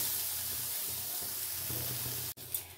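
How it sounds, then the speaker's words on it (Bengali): Eggplant frying on a low flame in an uncovered pan gives a soft, steady sizzle that ends in a brief clatter as it is stirred. "এইভাবেই আমি নাড়াচাড়া করে ভেজে নিচ্ছি"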